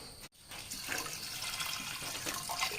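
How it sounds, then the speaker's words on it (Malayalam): Water is poured steadily into a pot of lentil and drumstick-leaf curry. The rushing, splashing stream runs continuously after a brief break at the start. "ഇനി നമുക്ക് പാകത്തിന് വെള്ളം ഒഴിച്ച് കൊടുക്കാം"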